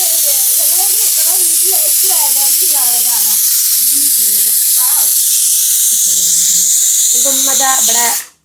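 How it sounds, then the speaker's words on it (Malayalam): Steady bright sizzling of coconut frying in a pan runs throughout, with a person talking over it most of the time. "തേങ്ങ വറുത്തുകൊണ്ട് നിൽക്കുകയാണ്"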